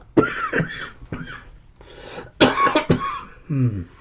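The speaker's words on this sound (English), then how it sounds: "But these coughs are no fun." A person coughs several times in quick, harsh bursts close by, followed by a short throaty rasp.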